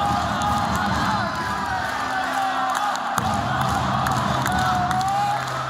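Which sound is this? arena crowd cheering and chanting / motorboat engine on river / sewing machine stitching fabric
arena crowd cheering and chanting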